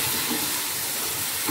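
Spices tipped into a pan of sautéing tomato masala for a jackfruit curry sizzle steadily. The hiss is soft and even throughout, with no talking.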